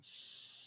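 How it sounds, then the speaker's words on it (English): A floor sander working on the floors of a neighbouring apartment gives a steady, continuous hiss with no breaks, heard faintly through the wall. "They're sanding the floors of the apartment next door."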